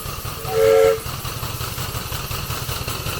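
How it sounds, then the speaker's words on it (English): Model steam engine running on steam at a model engineering society track, giving a steady hiss and chuffing throughout with one short, loud whistle near the start. "And now we'll use steam to make it go."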